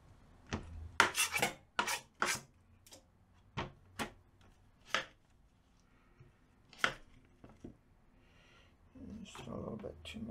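A knife chopping half of a large onion at home, a series of sharp close cuts on a board in irregular clusters with quiet gaps and some rustling at the end.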